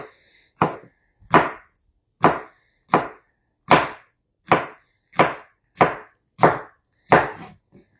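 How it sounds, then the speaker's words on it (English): Peppers are sliced into little circles with a knife on a cutting board: ten crisp, evenly spaced chops at a steady pace, close and distinct, with silence between strokes. "We're chopping peppers"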